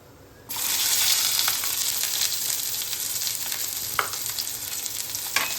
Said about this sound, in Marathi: आता आपण कांदा भाजून घेऊ.